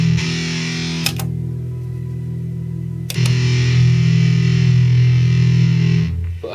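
Sustained, buzzing distorted electric guitar chords from an M9 effects pedal ring out loud and close, with brief pauses between held notes and no voices.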